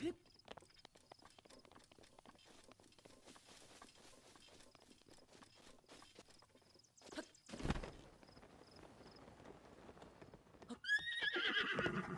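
In the video game The Legend of Zelda: Breath of the Wild, a horse whinnies loudly mid-clip, then hooves clip-clop nearby, with soft footsteps and patter beforehand.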